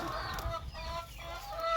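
Laying hens on a Thai poultry farm cluck and squawk at feeding time, several birds calling close by in quick, overlapping bursts with no talk.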